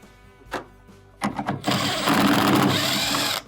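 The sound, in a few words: power drill removing screws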